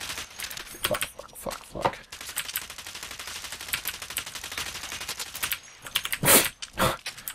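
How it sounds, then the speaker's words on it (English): Gunfire in the online shooter Blacklight Retribution: rapid automatic bursts and scattered shots, loud and close, with a sustained stretch of firing in the middle. A player swears briefly during the shooting. "Are you just gonna shoot around the corner until someone comes around it?"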